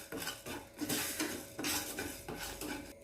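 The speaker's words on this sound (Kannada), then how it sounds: "ಒಂದು ಸ್ವಲ್ಪ ಎಣ್ಣೆ ಹಾಕ್ತೀನಿ. ಅದನ್ನು ಒಂಚೂರು ಹುರ್ಕೊಳ್ಳು." Urad dal stirred in a little oil in a pan for a taro leaf sambar, with a spoon scraping and clinking against the metal in irregular strokes over a faint sizzle, close and without talk.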